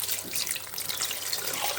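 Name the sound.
a litre of water poured in for bread soup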